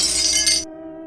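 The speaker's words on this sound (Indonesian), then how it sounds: "Terdengar suara pecahan benda di depan." Glass shatters in one short, bright, crashing burst with a tinkling tail, then cuts off abruptly into a faint lingering hum, heard close and alone.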